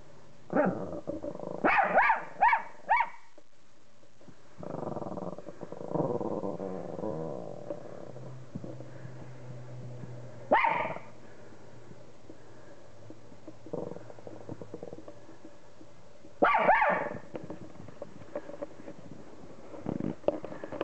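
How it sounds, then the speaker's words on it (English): A dog barks nearby in short bursts of several sharp yaps, separated by pauses with some low grumbling and quieter rustling between them. "Are you all through barking?"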